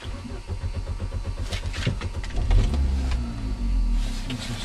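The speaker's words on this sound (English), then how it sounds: "You just start the car." A Vauxhall Astra 5-door LPG bi-fuel car engine cranks with a rapid starter whir, then catches and settles into a low, steady idle close by.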